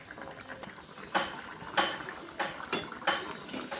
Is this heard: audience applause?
no